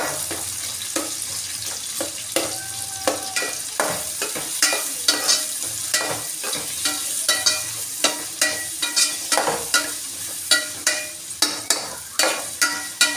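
Chopped ingredients sauté in a pan in a home kitchen, with a steady sizzle under repeated sharp scrapes and clinks of a spoon stirring, growing more frequent toward the end; no one speaks.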